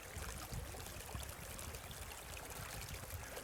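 A flowing river babbles and rushes in a steady, continuous wash of water sound, close and even throughout, with no voices.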